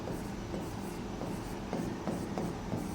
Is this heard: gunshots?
no